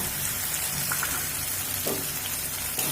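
Half-ground raw peanuts fry with tempering spices over a medium flame, giving a dense, continuous close-up sizzle with faint scattered pops and a light stir throughout.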